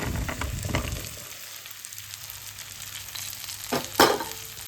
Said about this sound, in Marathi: आणि छान परतून घेऊयात भेंडीची भाजी